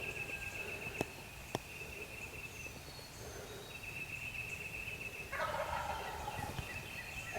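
Wild turkey gobbling very close during a North Carolina spring hunt, one bird with a few loud bursts over a steady outdoor hiss and insect buzz.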